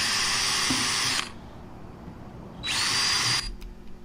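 A power drill boring holes, with two loud, close whirring bursts of roughly a second each and a quiet pause between them.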